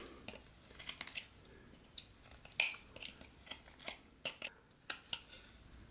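A knife shaves and cuts wood for a small carved plant stake, giving a series of sharp, faint scraping clicks at an irregular pace, close up in a quiet room without talk.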